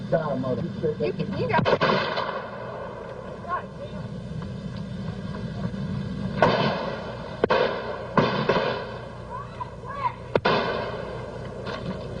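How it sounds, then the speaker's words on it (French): Several sharp gunshots ring out at irregular intervals over a background of voices and rumbling noise, some close and loud, others slightly softer. "les deux hommes échangent 11 coups de feu en moins de 22"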